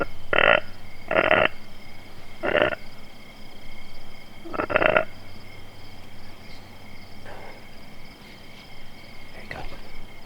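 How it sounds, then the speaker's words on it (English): Several short, raspy grunts from a whitetail deer grunt call sound in uneven clusters over a steady outdoor hum of insects, with fainter grunts trailing off later. "I let out a bunch of louder grunts"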